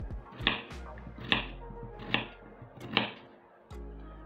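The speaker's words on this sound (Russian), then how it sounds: "Картофель нарезаю кубиками." A knife cutting potatoes into cubes on a board, four evenly spaced sharp chops about a second apart, close and clear, with low kitchen background.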